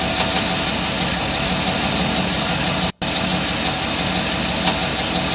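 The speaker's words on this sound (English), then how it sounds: "y'all hear that knocking?" A second GM 6.2 liter V8 idles with a suspected knock from lifters or bearings, a steady loud engine drone with a fast even ticking running through it and a brief dropout midway.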